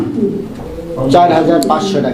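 Pigeons at a market stall in Bangladesh, a breeding pair that has already laid eggs and raised chicks, coo close by in a short burst of throaty calls while someone talks over them.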